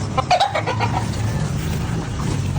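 Several chickens cluck nearby in short, rapid bursts over a low background hum, with no one speaking.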